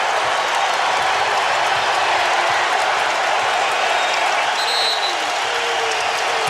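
A Kentucky basketball crowd cheers and applauds against Ole Miss, a dense, loud, steady roar filling the arena from start to finish, with a faint whistle-like tone near the end.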